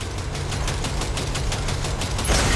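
Rapid automatic gunfire from Cyberpunk 2077 shooting at a train coupler rattles in a dense, sustained burst over a rumbling moving-train background, loud and close throughout.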